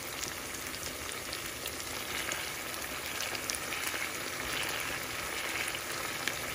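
Onion sizzles steadily in a hot pan for cassava escabeche, a dense continuous crackling hiss that stays loud and even throughout with no speech.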